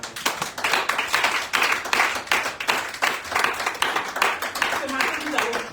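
A church congregation claps and applauds steadily and loudly in praise during a prayer service, a dense continuous wash of hands with some voices mixed in.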